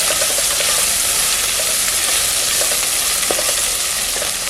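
Ginger garlic paste fries in a pan for a mutton biryani, giving a steady, loud sizzle with a constant hiss and occasional soft stirring scrapes throughout.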